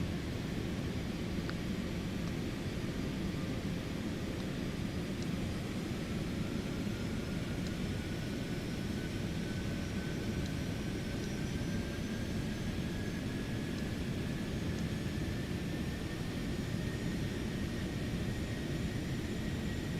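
A Cessna Citation X's jet engines spool up in a flight simulator game, a steady broadband roar with a faint rising whine underneath, continuous and even for the whole stretch.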